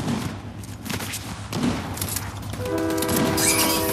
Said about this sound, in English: Let's get the train.